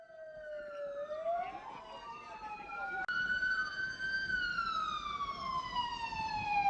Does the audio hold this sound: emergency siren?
yes